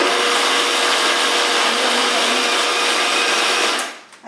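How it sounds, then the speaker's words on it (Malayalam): A kitchen mixer grinder whirs loudly and steadily, grinding grated coconut, cumin and green chillies for an aviyal paste, then stops abruptly near the end. "തേങ്ങയും ജീരകവും മുളകും മിക്സിയിലിട്ട്"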